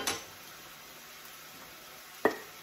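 Ground meat with onion frying in a pan for keto tacos, a soft steady sizzle with two sharp clinks of a utensil against the pan, one at the start and one near the end.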